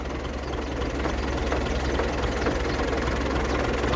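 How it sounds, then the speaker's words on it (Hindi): A tractor engine runs steadily during wheat harvesting in a field, a loud, continuous low rumble with constant mechanical vibration and no break for the whole stretch. "ये इस ट्रैक्टर को चला रहे हैं, ये गंदम की कटाई कर रहे हैं।"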